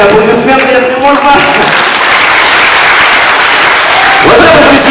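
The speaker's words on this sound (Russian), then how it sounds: "ему отдельные аплодисменты, если можно" Loud, sustained applause from the audience at a charity concert, a dense wash of clapping throughout with crowd noise and some voices mixed in near the end.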